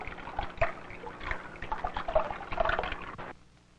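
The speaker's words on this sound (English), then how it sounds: "When water moves, you hear a splashing sound." Moving water splashing and trickling in irregular bursts, fairly close and moderately loud, then cutting off abruptly near the end.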